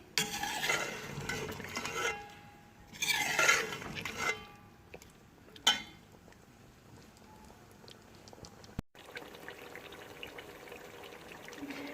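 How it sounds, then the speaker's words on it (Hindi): Chicken gizzards roast in a pan over a high flame, dhaba style, with a faint sizzle beneath scraping stirs and occasional clinks of the spoon against the metal. The stirring comes in bursts with quieter frying between them, and nobody speaks. "फ्लेम हाई करेंगे हम, और इसको अच्छी तरह से भूनते जाएंगे"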